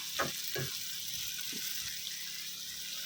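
Water poured into a pan of shrimp stir-fried with lemongrass, a soft frying hiss with a few splashy bursts near the start, fairly quiet and close.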